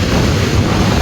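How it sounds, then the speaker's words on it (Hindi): Cold wind gusting steadily by a river in the hills, a broad, continuous roar and rumble of air buffeting the microphone, loud and unbroken with no voices. "ठंडी हवा चल रही है यहाँ"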